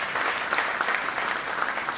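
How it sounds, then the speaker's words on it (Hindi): A seminar audience at a business training event in Meerut gives dense, continuous applause, a steady wash of many hands clapping at moderate loudness with no voices on top. "तालियां भाई से"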